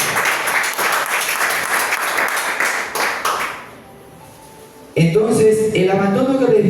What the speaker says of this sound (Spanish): Denle un fuerte aplauso porque Él se lo merece